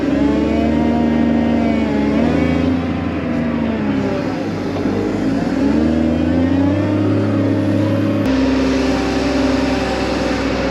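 A New Holland wheel loader's engine runs steadily up close on a farm, a loud continuous mechanical drone with a deep harmonic hum and slight shifts in pitch, with no talking.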